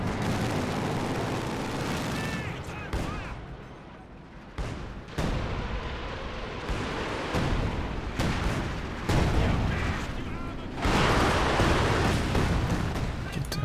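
Artillery barrage in Company of Heroes 2, heard as a run of heavy booms and blasts that come one after another with dense battle noise in between, all loud and close, under a voice that keeps talking.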